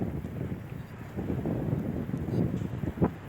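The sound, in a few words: strong wind and rain from Cyclone Tauktae in Morena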